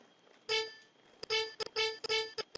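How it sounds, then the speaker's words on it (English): A computer sounds a string of loud electronic beeps in an irregular rhythm: one long tone, then clusters of shorter and longer tones with brief gaps, heard alone over a faint background hum. "Sorry about the beeping."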